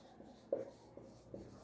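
A few faint, brief strokes of writing on a board, with small scratchy taps spaced out over a soft room hum and no voice.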